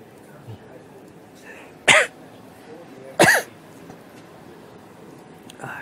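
A person gives two sharp, close coughs a second or so apart, with faint throat noises before and after in a quiet room during a live coding session.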